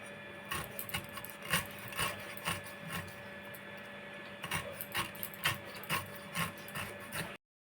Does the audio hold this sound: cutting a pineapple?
yes